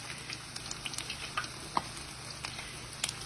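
Apple fritters fry in hot grease with a steady, soft sizzle, broken by small pops and crackles that come and go, quiet and close, with no talking.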